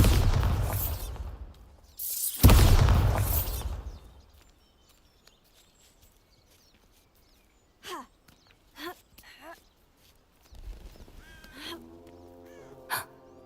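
The Bombarda explosion spell goes off in the Hogwarts Legacy video game, a loud rumbling blast that builds and peaks then fades, followed by quiet, short speech-like sounds and a few clicks.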